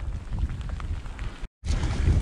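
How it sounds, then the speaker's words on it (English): Heavy rain pours steadily during a group mountain bike ride on Cutgate Path in the Peak District, a dense close hiss with low rumble throughout, briefly cut out for an instant. "it's decided to rain on us big time"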